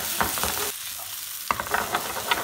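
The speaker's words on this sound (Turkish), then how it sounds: "Yağımız kızdıktan sonra şimdi soğanları ekleyebiliriz." Chopped onions sizzle in hot oil for a burger recipe, with a continuous close frying hiss and spatula stirring scrapes. A brief lull comes midway before the stirring resumes.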